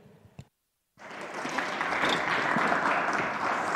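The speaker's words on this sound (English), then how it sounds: "let's give a round of applause for Logan" After a brief pause, applause from a conference audience at a tech data summit swells quickly and holds as a steady, dense wash of clapping, moderately loud and without talk.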